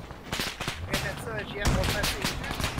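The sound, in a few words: gunfire from a vehicle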